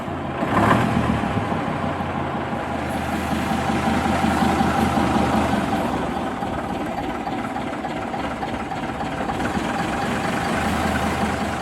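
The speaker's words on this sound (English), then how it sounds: "you hear the 5-cylinder motor start up" The five-cylinder engine of the Wings tour bus runs steadily close by, a low rumbling idle with a slight thump near the start, holding an even, moderately loud drone throughout with no talk.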